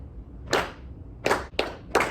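Students in a music class clap a rhythm pulse together, four sharp group claps at uneven spacing, close and fairly loud, with no talking.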